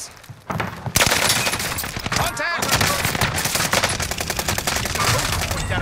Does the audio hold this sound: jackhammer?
no